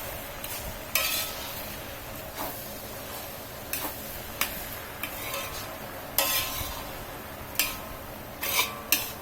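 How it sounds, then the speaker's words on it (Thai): Minced pork being stir-fried for laab with makhwaen: a continuous close sizzle with the spatula scraping and clicking against the pan at irregular intervals, no speech. "ผัดให้สุกเลยนะคะ ผัดให้แห้งให้สุกเลยเนาะ"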